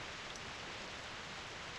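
Raindrops falling in a Reverse 1999 game scene, a steady, even hiss of rain that holds unbroken with no voices.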